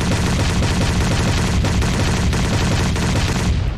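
Gunfire in PUBG Mobile where each shot lands as an explosion, a dense loud barrage of rapid blasts and booms running continuously, cutting off near the end, with no talking.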